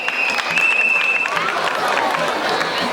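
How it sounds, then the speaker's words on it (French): Loud audience applause at a school debate event, a dense wash of clapping with some crowd noise and a voice over it, continuing steadily for a few seconds. "Un tonnerre d'applaudissements, s'il vous plaît."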